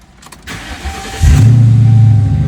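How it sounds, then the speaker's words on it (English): A Ford Crown Victoria P71 engine cranks and catches after a few soft clicks, then settles into a steady, loud, close idle hum with no talking. "the car still runs good."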